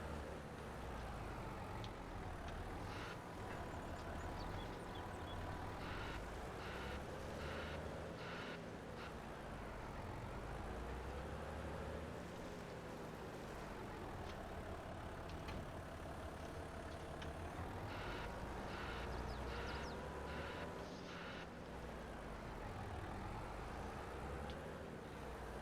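Truck engine in the game Silverrun running steadily for a long stretch, a low continuous drone with rising and falling revs and faint clanking of logs or machinery, no talk.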